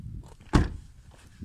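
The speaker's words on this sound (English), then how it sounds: "and open the trunk." Car trunk being opened at the back of a car, one sharp thunk of the latch, preceded and followed by faint shuffling.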